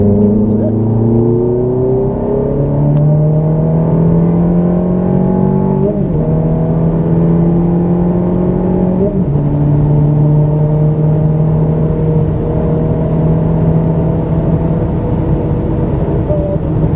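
A Ferrari accelerating hard on a race track, its engine rising steadily in pitch through repeated gear changes, loud and close from inside the car with a constant whir.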